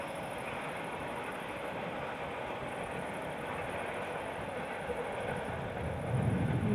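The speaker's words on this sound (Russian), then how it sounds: "звук удаляющейся электрички" An electric commuter train moving away near the Irpin bridge rumbles steadily, its low roar broad and continuous, slowly shifting in tone as it carries on at a moderate distance.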